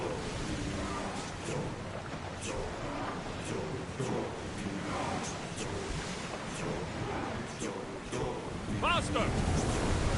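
A sailing ship crossing ocean waves in the Assassin's Creed Odyssey video game: a steady, fairly loud wash of surf and wind runs throughout, with brief voices calling out over it and a swell in volume near the end.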